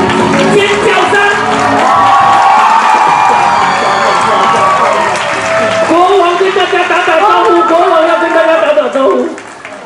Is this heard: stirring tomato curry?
no